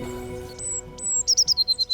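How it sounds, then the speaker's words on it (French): A blue tit sings close by outdoors, giving a quick run of bright, high, repeated notes after a few sparse chirps, over a faint low background hum. "Il y a un nouveau chanteur. C'est un oiseau qui est par là. Voilà, c'est ça. C'est une mésange bleue."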